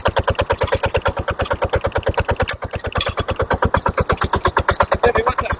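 A BCS 742/750 power tiller engine running close by with a loud, steady rapid thumping beat, briefly interrupted midway as it is shifted into reverse gear.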